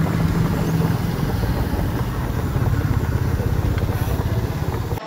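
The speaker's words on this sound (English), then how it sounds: "the engine is hissing and coolant bubbling" An overheating car engine on a mountain road trip in Cambodia runs steadily and loudly, with a continuous low rumble and pulsing throb throughout and no voices.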